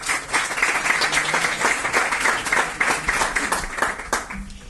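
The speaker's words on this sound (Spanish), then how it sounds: "Un aplauso a Inmaculada" Audience at a hospital infection-control presentation applauding a speaker, a dense steady burst of clapping from a room of people that tapers off near the end, with faint voices underneath.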